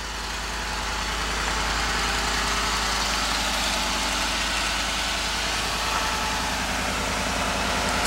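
A 2013 Ford F-150 pickup's 5.0 engine idles steadily with a low, even rumble and broadband hiss, close to the microphone and unchanging throughout.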